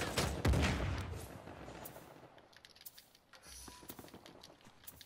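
Gunfire in Uncharted 4, a burst of rapid shots up front, then scattered sharp reports and distant pops over a quieter rumble.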